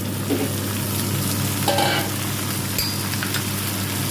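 Carrot, peas and beans stir-fry in a pan with tomato for a bean rice dish, a steady nearby sizzle with occasional scraping stirs and a light clink of the utensil, no voices.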